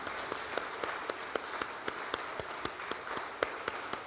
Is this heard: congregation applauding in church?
yes